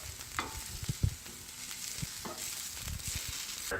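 Vegetables sweat gently over lowered heat in a pan for risotto, a soft steady sizzle with occasional clanks and scrapes of a spoon stirring, moderately close and without speech.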